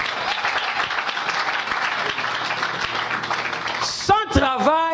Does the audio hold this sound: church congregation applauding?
yes